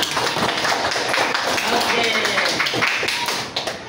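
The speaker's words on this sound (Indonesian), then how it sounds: "Kita tepuk tangan semuanya." Classroom applause as students clap together, a dense continuous patter of hands lasting several seconds at close range, with voices mixed in.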